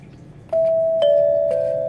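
Rittenhouse 550 doorbell chime struck by Arduino-controlled solenoid hammers, three clear bright tones at half-second intervals, each ringing on and overlapping the next, close and alone.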